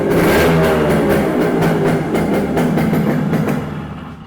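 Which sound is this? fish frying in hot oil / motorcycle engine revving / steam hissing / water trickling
motorcycle engine revving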